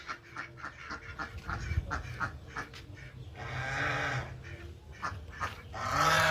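Farm ducks quacking at a Kendrapara agricultural science centre, a run of repeated nasal calls close by, with other fowl chattering and a broader noisy stretch of calls later on.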